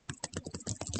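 Rapid typing on a computer keyboard: a quick, irregular patter of close, crisp key clicks lasting about a second, fairly quiet and alone.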